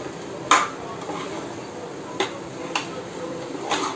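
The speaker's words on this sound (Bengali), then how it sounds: "তো এটা ভালোভাবে আমি মিশিয়ে নেবো।" Food being mixed in a pot on a home stove, with a sharp clink of a spoon against the pot followed by a few lighter taps and scrapes over a quiet background.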